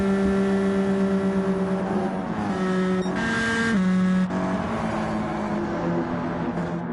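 Stock cars race in the Gran Turismo 7 CASCAR Cup Series, a dense roar of several engines with steady droning tones that shift pitch as the cars pass, loud and continuous throughout.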